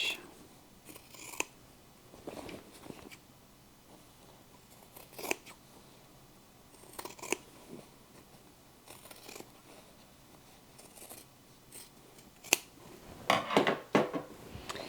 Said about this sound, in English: Go ahead and cut your seam allowance to about 1/4 inch.